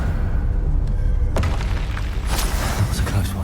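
Confringo fire spell explosions in Hogwarts Legacy: a loud booming burst, then a second blast about a second later, over steady rumbling game ambience.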